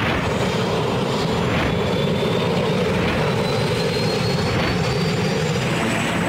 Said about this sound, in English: In the morning, the helicopter lifts off on the Kobe side of the strait.